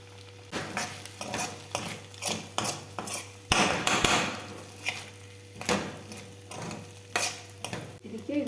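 Sabudana khichdi stirred and fried in a pan over a low flame, with repeated rhythmic scrapes and knocks of the spoon over a soft sizzle and a low steady hum.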